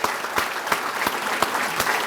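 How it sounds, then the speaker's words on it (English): Luncheon audience applauding active duty service members and veterans, a busy sustained patter of many hands with a few sharper claps landing at a steady beat, moderately loud and close. "How about a big round of applause?"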